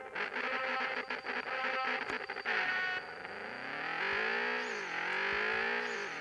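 A Chevrolet Opala engine accelerates hard on a test drive at a track in Brasília, a loud sustained roar climbing in pitch, dropping at a gear change, then rising again close to the listener.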